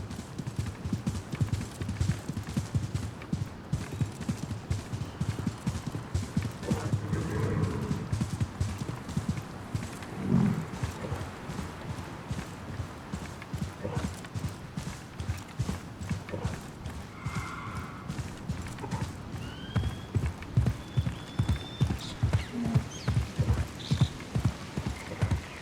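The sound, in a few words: horse galloping in video game Assassin's Creed Mirage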